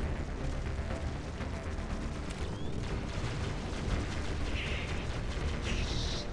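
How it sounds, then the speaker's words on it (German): Gunfire in the mobile shooter Halo: Spartan Strike comes as dense, continuous blasts and bursts, loud and unbroken, with no voice over it. "Ja, diese Schüsse verfolgen einen auch noch."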